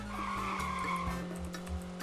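A G-Wagon in the RoVille video game squeals its tires while whipping around a roundabout, a steady engine drone under a brief, continuous skid, close and fairly loud with no speech.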